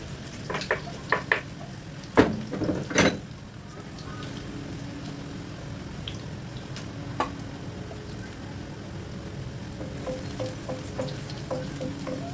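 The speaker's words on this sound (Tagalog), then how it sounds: "igisa na natin yung bawang" Garlic sautéing in hot oil in a pan, a soft steady sizzle with occasional sharp clicks and taps of a utensil against the pan, fairly close.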